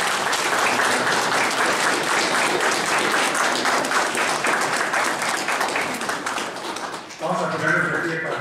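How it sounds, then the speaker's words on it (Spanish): A church congregation claps through a Spanish-language quinceañera mass, a dense, sustained round of applause that fades near the end as a voice begins speaking. "vamos a dar un aplauso y felicitación"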